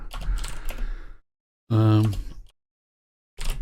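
Quick clattering keystrokes on a computer keyboard in a dark room, close and fairly loud, broken by a short muffled voiced sound and silence before another brief burst of typing.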